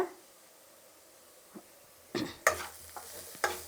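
Grated coconut and coriander being stirred in a pan for a carrot fry, soft quiet sizzling broken by several sharp spoon scrapes and clinks, clustered toward the end.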